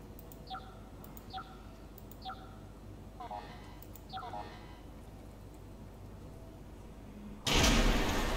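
Two doors opening in the sci-fi horror video game Soma. A few faint electronic chirps repeat at intervals, then a sudden loud burst of hissing air sounds near the end.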